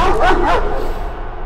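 A dog barks and yips loudly and close in the horror game Layers of Fear: Inheritance, a short burst of two or three sharp barks fading into a whimper.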